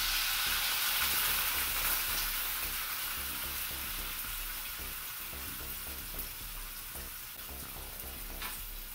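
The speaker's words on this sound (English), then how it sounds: "And now we're going to add some wine." Wine poured into mushrooms frying in a pan, a steady, close, hissing sizzle that holds throughout and eases off only slightly over time, with faint stirring under it.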